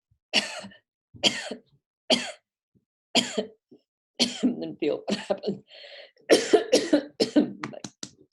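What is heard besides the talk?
deliberate coughing during a breathing exercise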